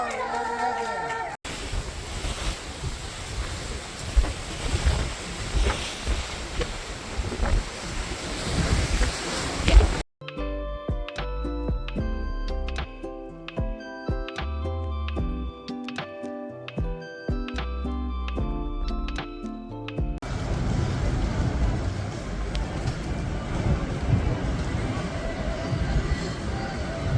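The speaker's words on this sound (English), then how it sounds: "It's cold and windy. Very wavy today." Wind buffets the open deck of the Virgin Voyages cruise ship Scarlet Lady with waves rushing below. The roar is loud and continuous, and a stretch of music breaks in partway through.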